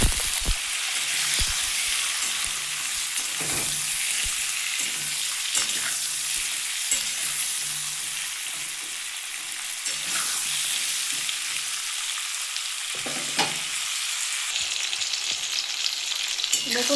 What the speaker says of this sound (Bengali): সামান্য হলুদ ভেজে নেব দেখুন